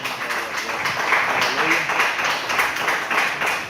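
A church congregation claps together in praise to God, loud and close, with a rhythmic pulse to the clapping and voices mixed in underneath.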